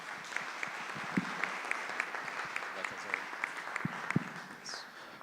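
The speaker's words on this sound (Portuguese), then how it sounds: "uma salva de palmas aos nossos palestrantes" Audience at a disaster research center event applauds the speakers with scattered, moderately faint clapping, individual claps distinct and a couple of louder ones near the end, in a quiet hall.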